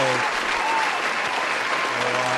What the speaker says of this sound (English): Let's have some applause for Nicole Grinnell